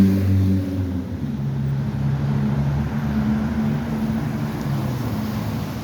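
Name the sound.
cars driving past in a street lane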